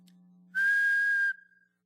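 A single person whistles one steady, clear held note, loud and close, lasting under a second before cutting off, with a faint hum underneath and silence after.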